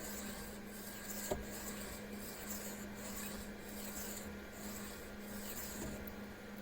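A knife blade is drawn across the stone of a Ruixin Pro precision sharpener lubricated with honing oil, giving a steady, continuous rasping rub with faint repeated stroke swells and a low constant hum beneath.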